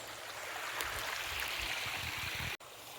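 River water streaming steadily at Hinolugan Falls in Guinobatan, Albay, a broad, continuous rushing wash close by, briefly cut off near the end before resuming.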